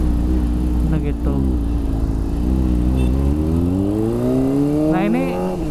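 A Kawasaki Ninja ZX25R motorcycle engine runs steadily in first gear, close and loud, its pitch drifting and rising slightly over several seconds. Someone talks over it throughout.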